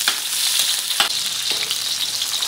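Onion and garlic sauté in hot cooking oil, a steady close sizzle with a few utensil scrapes and taps, no voices.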